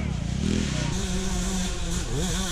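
A dirt bike climbs a hill during a race, its engine droning and revving loud and near with pitch shifts as it works up the slope, while a voice talks over it.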